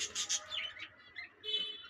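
Assorted caged birds at a bird and animal market in Mirpur, Dhaka, chirping and tweeting in short bright bursts, several calls overlapping at close range, with quieter gaps between.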